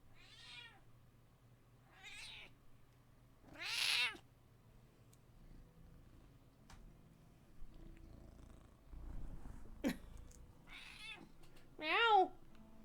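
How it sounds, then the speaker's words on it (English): A grumpy pet cat meows several times in drawn-out, rising and falling calls spaced across the scene, near and fairly clear, with a quiet hum and occasional soft bumps between cries. "Meow."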